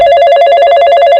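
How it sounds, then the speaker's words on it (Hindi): Telephone tones ring out loudly and steadily for about a second, a continuous electronic ringing with a strong pulsing buzz, alone with no voices, in a Hindi comedy cartoon about bandits. "तुम तो कुछ करोगे नहीं, मैं ही करता हूँ फोन"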